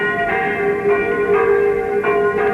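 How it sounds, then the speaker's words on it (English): Church bells ring at a small village church in Normandy near Caen, struck in a slow, irregular sequence of loud, resonant tones that hum on between strikes. "The curé of this little Normandy church, 2 or 3 miles from Caen, wants me to say how sorry he is about these bells"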